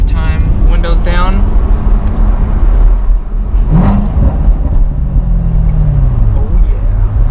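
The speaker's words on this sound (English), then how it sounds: "Downshift time, windows down." Heard from inside with the windows down, a car drives on a wooded road with loud wind and road roar. Engine pitch shifts during a downshift partway through, and muffled vocal sounds appear near the start.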